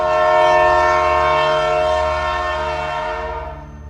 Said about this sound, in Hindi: और इतने में मेरी ट्रेन का हॉर्न बजा।